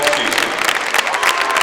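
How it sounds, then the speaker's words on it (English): Pella fans applaud their team at a 5A high school volleyball quarterfinal against Dubuque Wahlert, a dense, even patter of many hands clapping close by for a short burst. "Pella fans in front of us clapping their appreciation for this team."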